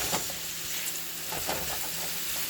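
White onions sizzling in a hot pan for Jamaican curry shrimp, a dense continuous frying hiss with scattered small crackles and stirring clicks, close and steady throughout.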